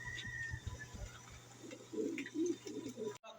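A fancier's pigeon coos in soft, repeated low calls, fairly faint against a steady background hum, with a brief chirp early on.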